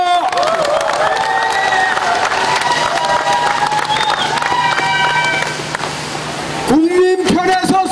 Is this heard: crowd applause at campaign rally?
yes